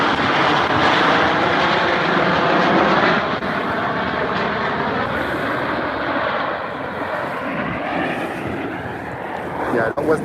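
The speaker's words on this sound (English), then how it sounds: "a stream of jets flying overhead." A stream of jets flies overhead during a sailing race finish, a broad, continuous roar that fills the whole stretch and eases slightly toward the end.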